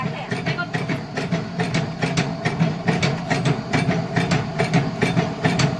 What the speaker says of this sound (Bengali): দেখুন মোটর ঘুরছে,